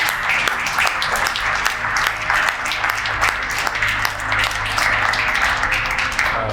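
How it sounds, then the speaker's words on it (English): Room audience at a sneaker-culture talk applauds steadily, with dense overlapping claps and a few sharper individual hits throughout, no voices over it. "I just want to give a round of applause to Jay and his work right now in this room."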